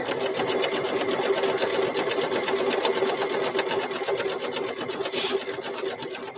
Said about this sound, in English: We're going to sew that one on there.